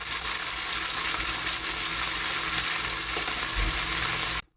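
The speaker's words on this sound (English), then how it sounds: "you're going to cook the chicken for about 3 minutes, skin side down" Chicken pieces fry skin side down in a pan over medium heat, giving a steady, dense sizzle that holds evenly for several seconds close up, then cuts off abruptly.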